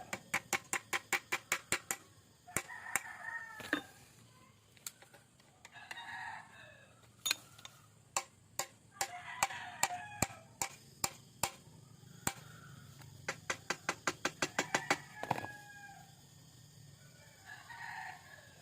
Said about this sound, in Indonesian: Oke, kita palu.